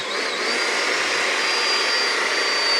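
A Bonny Doon hydraulic press runs while forming a metal bracelet over a die. It gives off a loud, steady mechanical whine and hum with a thin high tone, unbroken throughout.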